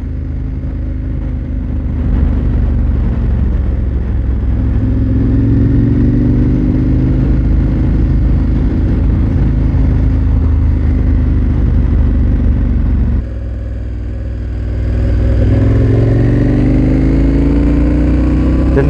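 A KTM 1290 Super Adventure R motorcycle engine drones steadily while riding, with a low throbbing tone that dips briefly before rising again as the revs climb, heard close and alone over wind rush.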